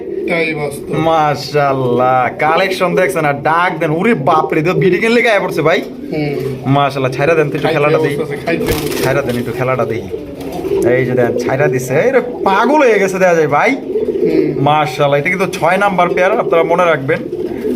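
Raj Golla pigeons, a red pair among them, coo in a continuous run of throaty calls, close and loud, with someone talking over them throughout.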